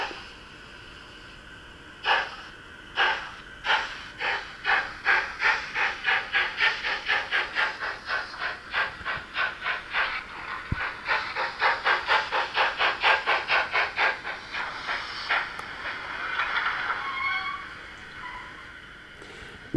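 A Gützold class 65 steam locomotive model in TT scale running in reverse, with rhythmic sound-module chuffs that start slowly and speed into an even, rapid beat over a hissing steam bed, easing off near the end.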